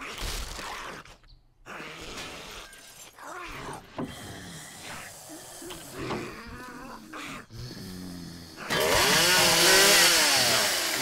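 A chainsaw in the video game 7 Days to Die buzzes and roars in bursts among growling, groaning creature sounds, ending in a loud sustained cutting whine. The sounds come close and at moderate loudness.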